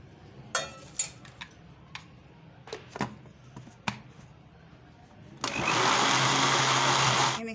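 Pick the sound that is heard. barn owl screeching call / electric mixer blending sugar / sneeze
electric mixer blending sugar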